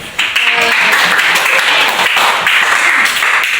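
A classroom of students applauds loudly with dense, continuous clapping that starts abruptly and holds steady, with a faint voice briefly at the start.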